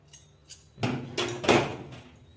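Scissors make a few small cuts in a fabric sleeve, giving three or four short, crisp snips close by in a quiet room.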